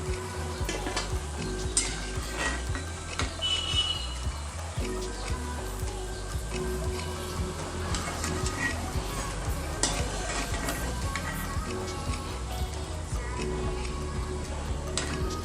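Onion pakoda frying in hot oil at home, a continuous close sizzle with occasional scraping and stirring clicks from a ladle in the pan, steady and fairly loud throughout.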